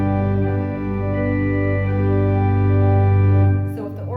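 Pipe organ chord sustained on the great manual with 16, 8 and 4 foot stops drawn, a steady, full, loud harmonic tone held for about three and a half seconds before cutting off into faint room echo.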